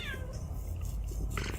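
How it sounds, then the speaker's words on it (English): A cat meows once aboard a spaceship in a video game, a short rising and falling cry heard close over a low droning engine hum, followed by a brief higher chirp. "Someone tie the cat down."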